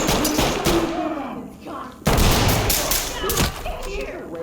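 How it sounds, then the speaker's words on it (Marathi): A flashbang grenade thrown during a police house-clearing raid in a video game: loud, sharp bangs and thuds amid bursts of gunfire-like crackle, with voices shouting over the chaos. "मी टाकतोय, ग्रेनेड टाकतोय."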